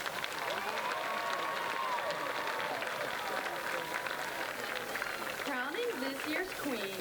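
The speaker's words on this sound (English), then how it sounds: "homecoming court a nice round of applause" A stadium crowd at the 2021 Opelika vs Valley homecoming football game applauds the homecoming court. Steady, distant clapping and crowd noise fill the air beneath an announcer's amplified voice.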